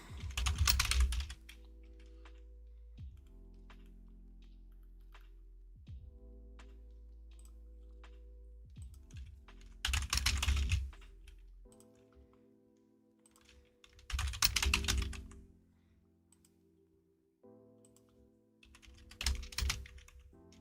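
Cheap $5.99 computer keyboard with a harsh, clacky feel, typed on in several short bursts of rapid close keystrokes separated by pauses, over a steady low background hum.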